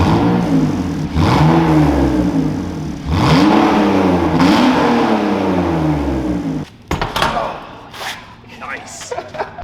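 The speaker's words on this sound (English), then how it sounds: "We're gonna get a quick before shot of the exhaust note." A BMW E46 with its stock exhaust revs up a few times in close succession, the engine note rising and falling in loud, sweeping bursts before it drops away, followed by some brief clatter.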